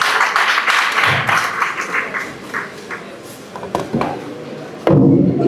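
An audience at a school orientation fair applauds a speaker with scattered, loud claps that gradually thin out and fade, followed by a sudden louder burst of noise at the end.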